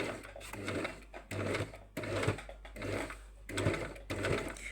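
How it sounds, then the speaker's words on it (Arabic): A sewing machine stitches along an edge in a string of short, steady runs separated by brief pauses, close and fairly loud. "غادي نخيطوا في هذه الطلعه"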